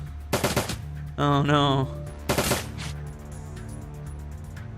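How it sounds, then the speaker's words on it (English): Gunfire bursts in the video game Shadowrun: Dragonfall: three loud, sharp volleys spaced a second apart, with a voice speaking briefly between them. "Yeah, just keep shooting this thing."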